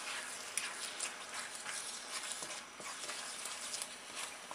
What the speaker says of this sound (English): let's fry this up for a second